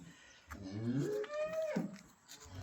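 A single cow moos loudly and close by, a long low call that rises and then drops off.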